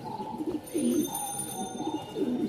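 A pair of fancy black pigeons at a pigeon market in Mirpur-1, Dhaka, gives low, throaty coos in a few rolling bursts. The cooing is close and fairly clear over a light background hum.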